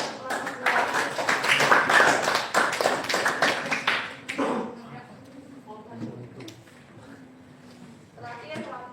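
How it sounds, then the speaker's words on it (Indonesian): Classmates clap after a class presentation in a school lesson, a loud burst of dense applause for about four seconds that fades into quieter scattered taps and voices. "tepuk tangan untuk kelas 2"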